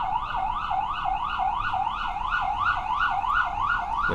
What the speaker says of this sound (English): listen to that ambulance